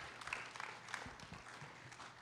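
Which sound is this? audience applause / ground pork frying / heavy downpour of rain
audience applause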